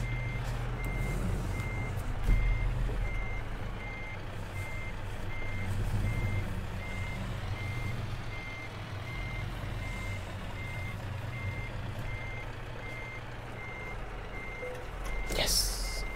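A truck in the Euro Truck Simulator 2 game reverses with a steady, evenly spaced electronic beep repeating over a constant low engine drone, with a brief hiss near the end.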